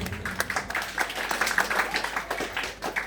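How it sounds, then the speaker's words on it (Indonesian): Light applause at a church thanksgiving reception celebrating a nun's perpetual vows, a modest group clapping in uneven bursts, fairly quiet and close, with no talk over it. "Kita semua beri tepuk tangan untuk Bapak Hendrikus."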